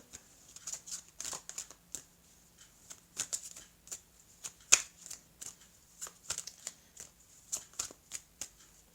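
Playing cards are drawn and shuffled close by in a quiet room, giving off quick papery flicks and riffles in irregular bursts with short pauses between them.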